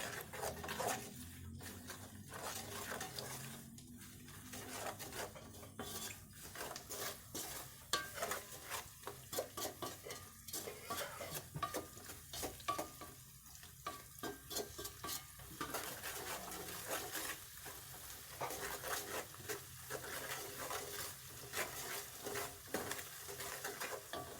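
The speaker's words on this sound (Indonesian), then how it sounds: "Kita aduk-aduk." A spoon stirs and scrapes spices in a pot while oil sizzles underneath, quiet repeated scraping strokes over a continuous soft frying hiss.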